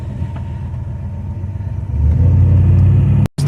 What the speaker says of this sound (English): gearbox will downshift automatically by itself. Come to a stop, so it goes to 3, and eventually go to 2nd gear